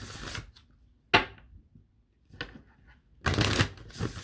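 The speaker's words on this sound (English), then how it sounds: "So now I'm gonna pull some Soul's Journey cards for you." Oracle cards, a Soul's Journey deck, are shuffled and pulled in short crisp riffling bursts separated by quiet pauses, close and clear with no talking.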